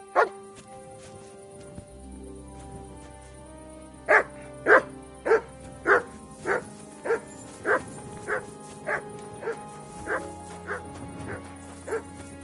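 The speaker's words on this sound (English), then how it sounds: "Sit and bark." A dog barks on command in Kingdom Come Deliverance 2, a single bark and then a long, evenly spaced run of about a dozen sharp barks, close and loud over a low game backdrop.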